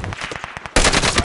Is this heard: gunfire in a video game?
yes